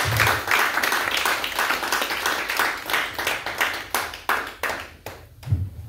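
A church congregation applauds together in a dense, steady patter of many hands clapping at close range, with the rhythm loosening slightly toward the end and no talk over it.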